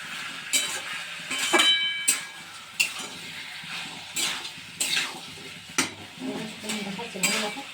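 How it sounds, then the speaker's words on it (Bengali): A spoon stirs chickpeas and potatoes with masala in a pan, giving a run of close, moderate scraping and clinking strokes about every half second to second, with a faint hiss underneath. "এবারে ছোলাটা আলুটা দিয়ে দিলে এবারে ভালো করে নেড়ে নেবে যাতে মশলাটা একদম ছোলা এবং আলুর সাথে একদম মিশে যায়।"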